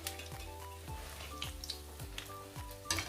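Awameh dough balls returned to hot oil for a second fry, giving a steady close sizzle with soft stirring scrapes and light bubbling throughout.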